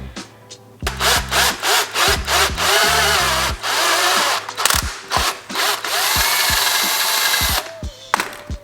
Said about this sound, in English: Now I'll step up to the drill bit. That is the same size as the previous hole.